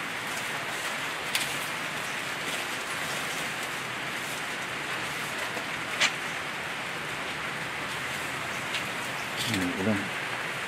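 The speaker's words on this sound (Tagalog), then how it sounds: "Ulan." Steady rain in the Philippines patters throughout, a dense even hiss with a few brief louder drops and a short low rumble near the end.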